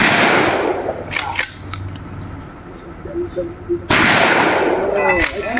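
Guns fire at an outdoor shooting range, loud close shots that crack out alone and then in a quick burst, with people talking between the reports.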